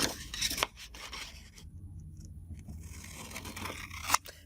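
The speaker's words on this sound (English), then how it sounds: "So I'm just going to cut that out." Scissors snip and slice through paper while fussy cutting a Stamperia Romantic Collection journal element, close crisp cuts and scraping blade sounds in an uneven rhythm, with no talking.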